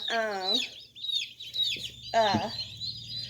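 Meat chickens cluck and squawk in a few short bursts, close by on a homestead, with quiet gaps between them.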